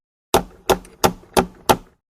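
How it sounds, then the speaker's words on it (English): Five sharp knocks land on a prison cell door at an even, fairly quick pace. Each is crisp and close, with a short decay, and the knocks are heard alone without talk. "She knocks on the door of Toad's"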